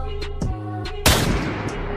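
Loud gunshots, several sharp bangs, ring out over a tonal game soundtrack, with a heavy blast near the middle followed by a rough, noisy tail.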